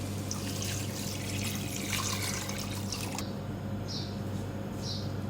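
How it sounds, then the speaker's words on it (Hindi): About three cups of water poured into a cooking pot holding 800 grams of beef, a continuous close, soft splashing trickle that fades toward the end into faint drips. "3 कप पानी डालूँगी इसमें।"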